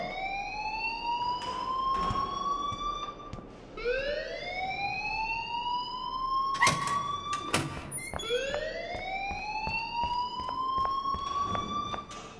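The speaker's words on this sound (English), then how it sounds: "please turn off that alarm since that's your job" A school alarm in the Life Is Strange video game wails without pause in rising and falling sweeps, loud and steady, with a few brief clunks partway through.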